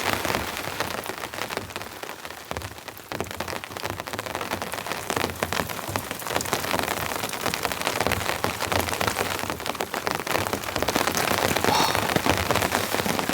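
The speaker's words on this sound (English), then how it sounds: "just enjoy listening to this beautiful rain" Steady rain drums on a tarp stretched over a tent at a campsite, a dense, even patter of countless drops that slowly grows a little louder, with no voices.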